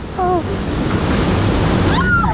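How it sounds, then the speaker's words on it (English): Water rushes and churns on a rapids boat ride at West Midland Safari Park, a loud, continuous wash broken by brief high shouts and squeals from riders near the start and end. "Oh, quite a fun little rapids."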